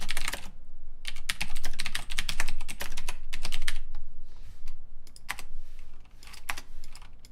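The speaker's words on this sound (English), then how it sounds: "I'll be typing essays with this silent keyboard." Rapid keystrokes on a silent computer keyboard, a steady soft clatter in dense bursts with brief pauses, close and fairly quiet, with no talking.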